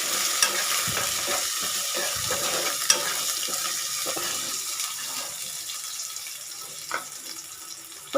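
Ginger garlic paste frying in a pan, a steady wet sizzle with frequent spoon scrapes and a few clinks, close and continuous with no voices.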